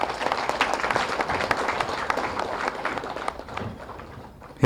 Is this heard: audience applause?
yes